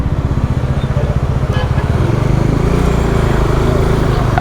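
A motorbike cruising along a road in India on a long-distance ride, its engine droning steadily and close throughout with a continuous low rumble that firms up slightly midway.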